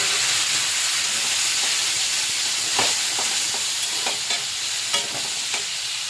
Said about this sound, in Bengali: কড়াইতে তেল গরম হয়ে জিরে ফোড়ন এসে গেছে। দিয়ে দিলাম এখন আলু আর পটল।